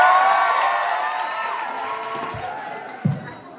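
A comedy club audience applauds and cheers for comedian Mark Dawson, the clapping loud at first and slowly tapering off, with voices mixed in.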